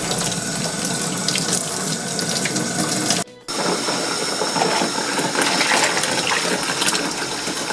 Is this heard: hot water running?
yes